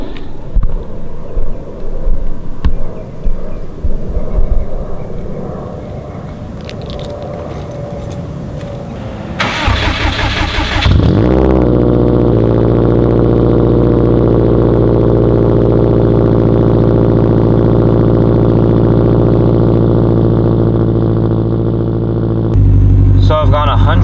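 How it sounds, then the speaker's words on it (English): A car engine burning E85 cold-starts with a sudden loud catch partway through, then settles into a steady, loud idle drone that holds until a brief change near the end, with quieter muffled noise before the start. "I'm gonna start this video off with a cold start because everybody loves cold starts."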